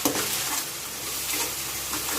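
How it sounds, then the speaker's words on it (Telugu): Ginger garlic paste frying with onions in a pan for chicken dum biryani, a constant loud sizzle with soft stirring scrapes. "ఇప్పుడు ఒకసారి అల్లం వెల్లుల్లి పేస్ట్ కూడా వేగేంత వరకు ఫ్రై చేయండి."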